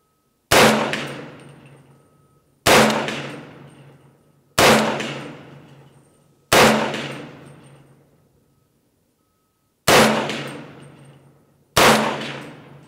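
A Doublestar ARC 300 Blackout carbine fires six single shots at steel targets, each a sharp loud crack with a ringing clang that decays over about a second, spaced roughly two seconds apart with one longer pause.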